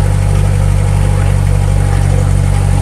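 A homemade tractor's engine runs steadily while hauling manure, giving a loud, continuous low drone with a constant throb and no change in pace, and no voices over it.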